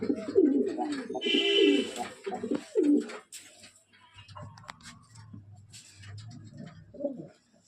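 Domestic pigeons, kept and trained as flying birds, coo in a low repeated rumble close by, with softer coos trailing off toward the end.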